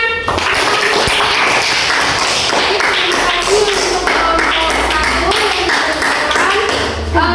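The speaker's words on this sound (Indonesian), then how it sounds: "Tepuk tangan dulu untuk temannya." Classmates in a classroom clap for a fellow student during a math lesson, loud close scattered clapping and tapping mixed with voices and chatter throughout.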